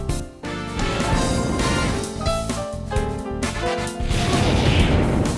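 Servbot's robot attack in Marvel vs Capcom 2, a dense burst of arcade game effects with repeated blasts, crashes and whooshes over game music, loud and busy throughout.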